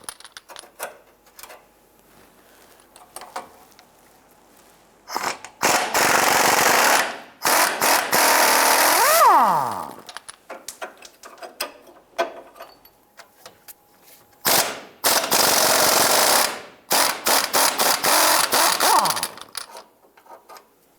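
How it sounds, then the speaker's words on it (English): Power tool loosening the crossmember bolts on a 2002-2008 Dodge Ram 1500 during an oil pan replacement: several loud rattling bursts of a few seconds each, separated by quieter clicks and handling noises, with no talking. "Loosen and remove the 2 bolts on the driver's side and 2 on the passenger side."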